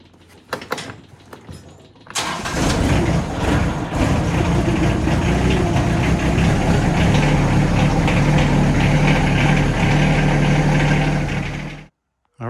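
A Yanmar SA424 compact tractor engine cranks briefly, catches and roars into a steady, loud diesel idle that runs for about ten seconds before cutting off abruptly.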